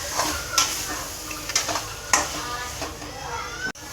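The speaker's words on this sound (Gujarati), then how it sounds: "હવે આપણે સરસ રીતે હલાવી લેવાનું છે" Paneer bhurji with chopped capsicum stirred in a sizzling pan, a steady fry hiss under scraping spoon strokes and a few sharp clinks against the pan, fairly quiet.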